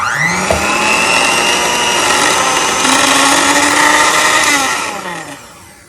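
An electric hand mixer whirs steadily on low speed through butter frosting, a loud continuous motor drone with a pitch that shifts slightly as the beaters are lifted, fading at the end.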